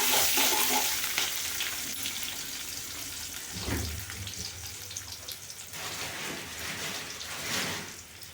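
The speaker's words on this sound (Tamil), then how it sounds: "அரிஞ்சு வச்ச வெங்காயத்தை கொஞ்சம் போடுறோம். போட்டோம்னா அது ஒரு வதக்குறோம்." Chopped onions sizzle and fry in a pan with mustard seeds, a steady crackling hiss that rises briefly as they are stirred, with occasional scraping and faint clatter.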